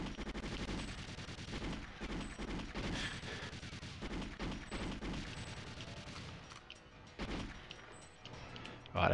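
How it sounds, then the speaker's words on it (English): Gunfire in the GoldenEye video game: rapid repeated automatic shots in bursts, with a sharp cracking texture over game sounds, fairly faint and steady throughout. "We'll get shot as we go"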